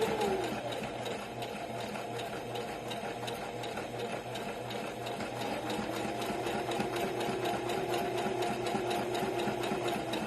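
A sewing machine running a back stitch on a beginner's fabric bunny, a steady rapid mechanical chatter that stays close and even throughout with no pauses.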